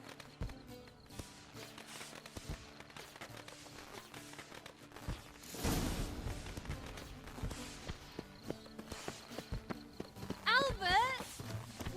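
Horse hooves clip-clopping at a walking pace in The Witcher 3, a steady run of light taps beneath game music and other noise, with a louder burst partway through and a voice briefly heard near the end.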